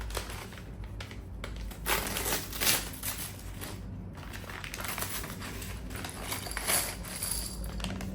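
Clear plastic packaging crinkled and torn open to get at Lego Speed Champions bricks for the F1 APX GP car, a close, steady crackling rustle with a few louder crunchy bursts and no talk.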